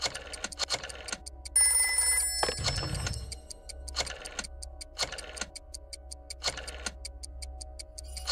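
In the Jackbox party game, a rotary telephone rings in repeated mechanical bursts over a ticking, clock-like rhythm, with one louder, denser burst near the start.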